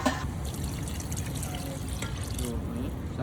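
Water poured into a pot of curry cooking on the stove, a continuous soft trickling splash heard close by and lasting throughout.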